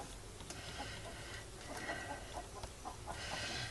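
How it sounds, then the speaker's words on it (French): A hen clucks after laying an egg, with repeated short cackling calls, faint and somewhat distant, heard under indoor background noise. "vous allez avoir droit à la chanson de la poule. Je crois qu'il y en a une qui a pondu"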